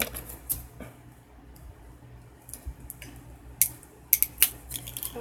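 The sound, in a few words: scissors cutting homemade washi tape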